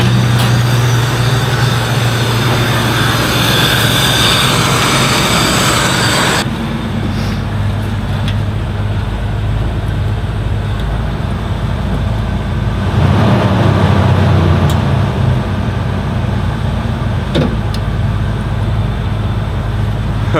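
A 75-year-old car engine runs steadily at its first start, a loud, rough, continuous rumble with a shift in tone partway through and small clanks over it.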